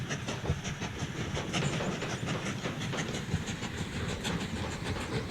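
A freight train rolls along in the Mashinky railway-building game, hauling planks toward a steelworks, with a steady rolling clatter and faint hiss running continuously at moderate loudness, with no talk.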